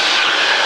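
Cessna 152 engine during a split S aerobatic maneuver, a steady loud drone heard alone for under a second.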